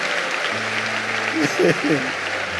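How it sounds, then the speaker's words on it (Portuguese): Congregation clapping hands during a Catholic priest's sermon, a broad rustling patter of many hands under the priest's voice, with a sustained organ-like tone and sung notes rising above it. "Bata palmas, você que é lindo"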